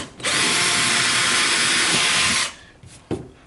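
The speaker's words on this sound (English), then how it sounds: "now we're going to drill pilot holes. We're not going to go all the way through the furniture." A power drill with an 1/8 inch bit bores a pilot hole about an inch into furniture, a loud, steady high whir for about two seconds that stops abruptly, followed by a couple of soft knocks.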